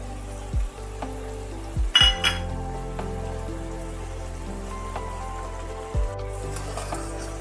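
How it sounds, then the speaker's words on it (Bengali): Ground sesame and melon seed paste drops into a hot pan for a vegetarian aloo dum, giving a few sharp splattering hisses and sizzles over a steady low background, with clanks of a utensil against the pan. "এবার আমি দিয়ে দিচ্ছি বেটে রাখা তিল আর মগজের বাটাটা।"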